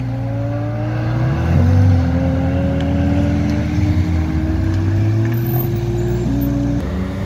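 A Volvo V70R all-wheel-drive car engine drones steadily with rising and falling pitch as it drives past on a track, loud and close, with no talking.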